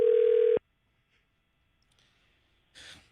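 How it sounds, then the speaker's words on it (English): A telephone calls a cell phone: a steady dial tone holds for about half a second and cuts off, then comes near silence and a brief burst of noisy line sound at the end. "Let me call her cell phone."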